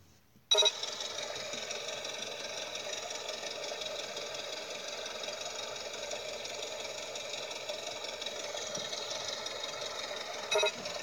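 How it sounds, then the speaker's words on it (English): Steady airplane engine drone from a flight video game, a continuous even hum with a buzzing tone that starts abruptly and holds at a constant level, with a brief louder blip near the end. "we'll turn the volume up so you can hear the engine"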